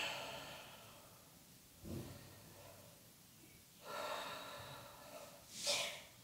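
Slow, deep breaths are drawn during a yoga pose in a quiet practice, with soft audible inhales and exhales separated by long gaps, the last breath sharper and more forceful, and no talking over them.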